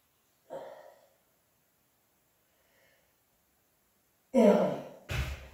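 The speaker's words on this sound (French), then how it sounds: "et respire." Deep breathing during an Iyengar yoga backbend pose: a soft exhale near the start, a long quiet stretch, then a loud, close, sigh-like breath out followed by a sharp short breath.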